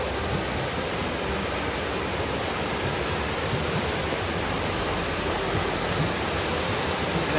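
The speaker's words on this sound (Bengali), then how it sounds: "এখান থেকে একটা সরু জলস্রোত দেখা যাবে" A narrow rocky stream near the Kalyaneshwari temple by Maithon Dam gives a steady, dense rush of water throughout, with no voices over it.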